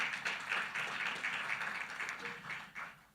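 Faint, distant applause from an audience at a closing ceremony, honoring sponsors, heard as a soft continuous patter of clapping with gently pulsing swells.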